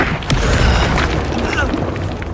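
An Incendio fire spell is cast during a fight in Hogwarts Legacy, making a dense, roaring burst of magical fire and combat noise that fills the whole stretch with rumbling booms, with no pause.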